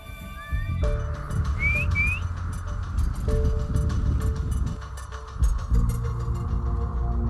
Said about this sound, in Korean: 휘파람으로 신호를 보내본다